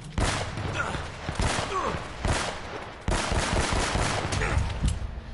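Gunfire from the video game Uncharted as a weapon empties its ammunition, loud repeated bursts of shots close up, with speech at times.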